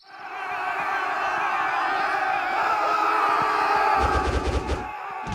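An angry village mob roars and shouts continuously as it attacks a man, a dense loud crowd din that swells, with heavy chaotic thumps and impacts bursting in near the end.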